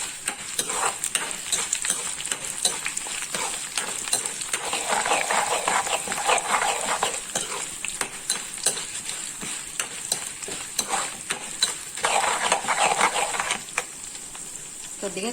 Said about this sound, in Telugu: పోపు దినుసులన్నీ వేసుకుంటున్నాను. పచ్చెనపప్పు, మినప్పప్పు, మెంతులు,